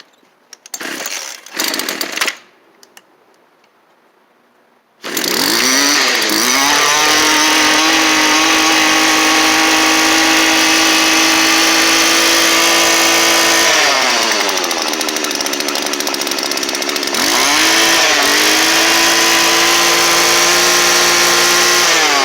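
A cheap two-cycle engine on full choke sputters through a couple of brief attempts, then catches and runs loud and steady with a buzzing, chainsaw-like drone, its pitch dipping and rising slightly as it settles.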